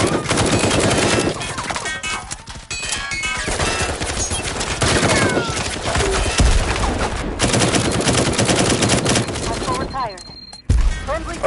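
Dense gunfire in the tactical shooter Firewall Zero Hour, with loud, rapid bursts and single shots cracking through almost the whole stretch and a short gap near the end. Faint game voices sit underneath.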